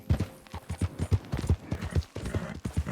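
Horse hooves clip-clop at a steady walking rhythm in Red Dead Redemption 2, a series of close, moderately loud footfalls with no talking over them.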